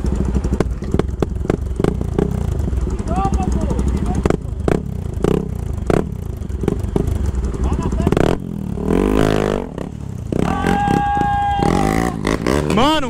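A Honda Bros 160 motorcycle engine running and revving near a river crossing, with other bikes around, loud and close under frequent excited talk, with a rising rev toward the end.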